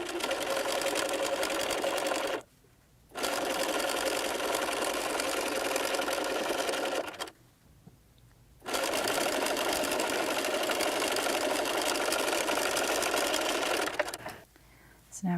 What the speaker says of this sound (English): you're just gonna sew along the top and the bottom, leaving the sides open and the window portion open.